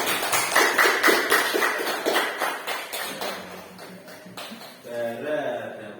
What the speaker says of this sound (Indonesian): Tepuk tangan untuk Bara dulu.